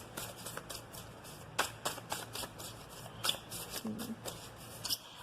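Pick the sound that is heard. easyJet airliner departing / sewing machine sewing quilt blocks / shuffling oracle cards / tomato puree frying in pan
shuffling oracle cards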